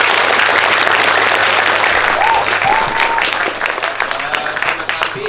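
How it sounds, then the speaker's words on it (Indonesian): Dense, loud applause from a crowd at a school event, sustained clapping throughout with a few shouts rising over it before it thins slightly near the end. "Oke, tepuk tangan untuk kita semuanya."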